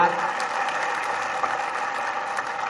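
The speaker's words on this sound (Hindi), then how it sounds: "एक बार और उसे आशीर्वाद दीजिए अपनी तालियों के साथ।" Applause from an audience at a Hindi poetry recital, a steady wash of clapping heard from a moderate distance, fairly even in level with no distinct voices rising above it.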